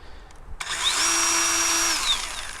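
A Dewalt 18V/20V DCMPS567P1 cordless pole saw spins up, runs steadily with a smooth high electric whine for about a second, then winds down, fairly quiet and close.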